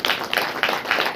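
Congregation at a Hindi-language church service clapping in praise, a loud, close burst of rhythmic group handclaps with roughly regular beats about every third of a second.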